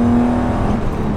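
BMW M5 E28, an 1980s saloon with the M1-derived engine, pulling away on the autobahn, a loud steady engine drone with a sustained low tone that eases slightly as speed builds, no talk over it.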